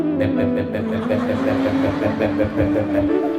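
A voice mimics the loud, rumbling exhaust of a modified motorcycle, a steady buzzing drone held for several seconds.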